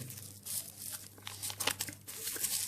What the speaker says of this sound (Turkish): Bir poşet ve klips.